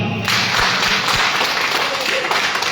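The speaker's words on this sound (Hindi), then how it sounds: "मैं चाहूँ अपने लिए एक जोरदार ताली" Audience applause at a youth programme event in a hotel lodge, a dense continuous wash of many hands clapping at steady loudness throughout, with faint voices mixed in.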